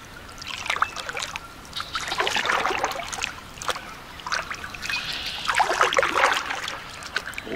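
A kayak paddles along the Union Canal, with rhythmic dipping strokes and soft water trickles and splashes rising and falling in two broad waves, close by and fairly quiet.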